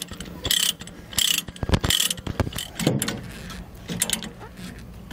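A ratchet chain binder cranked to tighten a transport chain with grab hooks, with close, loud bursts of ratcheting clicks and clanks in uneven strokes, plus some metal knocks.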